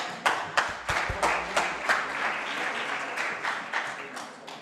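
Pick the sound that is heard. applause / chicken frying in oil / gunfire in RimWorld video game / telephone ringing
applause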